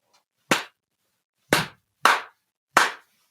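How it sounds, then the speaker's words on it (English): Four sharp, close hand claps, the first alone and the last three in quicker succession, each a crisp smack with no talking around them. "It sounds like clapping."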